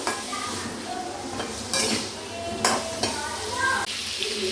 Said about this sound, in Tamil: நல்லா வதக்கிறோம் ஃப்ரெண்ட்ஸ்